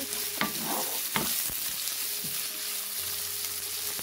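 Chopped onion sizzling steadily in hot oil, with a few scraping stirs and soft knocks of a spoon against the pan.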